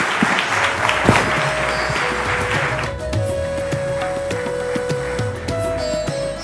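Audience at a leadership summit in a large hall breaks into sustained applause after an on-stage conversation with Hugh Grant and Rahul Khanna. Dense clapping fills the room, then thins somewhat partway through.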